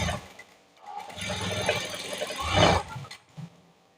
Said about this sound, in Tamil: கழுத்து போர்ஷனில் கரெக்டாக கச்சிதமாக வர மாதிரி தையல் போட்டுக்கலாம்